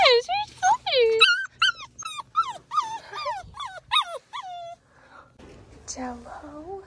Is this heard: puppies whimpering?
yes